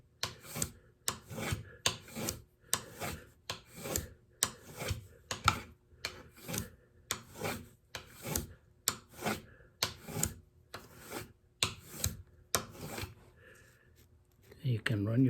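A blade is drawn over a sharpening stone at a steady angle to raise a burr, giving a regular series of about twenty crisp rasping strokes, close and clear, before the strokes stop and a brief quieter handling sound follows.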